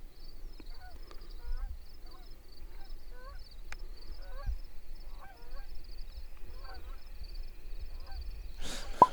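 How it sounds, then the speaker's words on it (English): Geese honk repeatedly in a loose, chattering chorus, somewhat distant, over a faint steady background hum. "All of a sudden we heard some geese and turned around."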